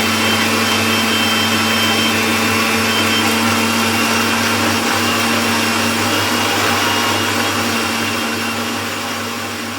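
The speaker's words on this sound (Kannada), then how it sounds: "ಅದನ್ನು ಫುಲ್ಲು ನೀಟಾಗಿ ಫೈನ್ ಪೇಸ್ಟ್ ಮಾಡ್ಕೋಬೇಕು." A mixer grinder whirs continuously and loudly as it grinds ingredients into a fine paste, the motor's steady high whine holding for nearly ten seconds before easing slightly at the end.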